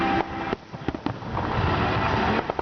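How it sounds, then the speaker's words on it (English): Fourth of July fireworks burst nearby in several sharp booms and crackles, with a steady rumble of further explosions filling the gaps. "Fireworks"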